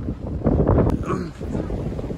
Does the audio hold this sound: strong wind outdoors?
yes